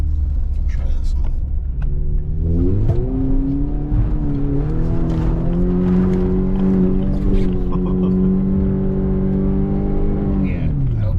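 A Subaru revs up a muddy incline, its engine climbing from a low rumble to a sustained high drone before dropping off, up close, with people talking over it.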